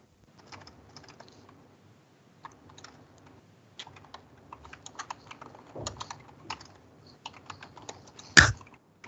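Fast, irregular clicking of a computer keyboard being typed on, close and fairly quiet, building slightly with a sharper knock near the end.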